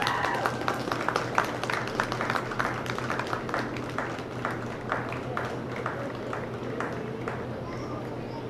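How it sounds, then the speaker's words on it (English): An audience applauds at a junior dairy showmanship class at the 2024 Dodge County Fair, with steady, moderately loud clapping that lasts throughout over a busy indoor hum, and some talk mixed in. "give them a big round of applause for me"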